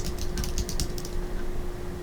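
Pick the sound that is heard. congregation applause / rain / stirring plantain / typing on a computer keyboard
typing on a computer keyboard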